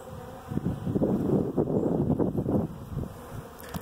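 Bees flying into an empty hive in a bee yard, a steady close buzzing drone that rises and swells with many overlapping wingbeats, alone without talk.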